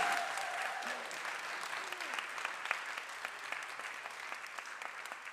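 A congregation at a Sunday church service applauds steadily with scattered claps, moderately distant and even throughout, with no voices rising above it.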